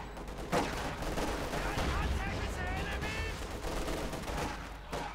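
Infantry small-arms fire in Company of Heroes 2, with Grenadiers and Guardsmen trading shots: a dense, continuous crackle of rifle and machine-gun bursts under steady game noise, with a caster talking over it.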